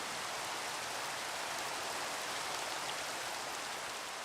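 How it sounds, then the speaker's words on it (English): Steady rainfall in the Minecraft video game, a dense even hiss of drops that holds unchanged throughout with no talk over it. "It just started raining."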